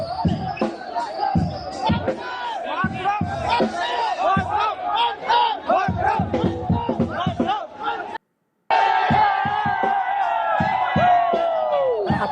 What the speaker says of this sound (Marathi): त्यांचा हा जल्लोष आपण पाहताय जंतर मंतरवरचा